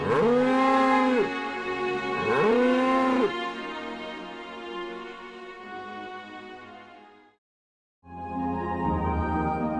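A calf cries out for its mother cow with two long, loud bawling moos close by, followed by fading lower calls, a brief silence and then renewed noise.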